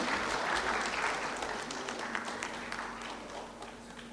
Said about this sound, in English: Can we have the crowd applauding for the moderator?